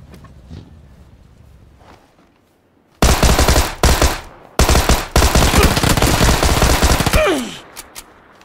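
Loud sustained automatic gunfire from a video game, dense rapid bursts with brief gaps, following a few seconds of near silence and trailing off into scattered pops at the end.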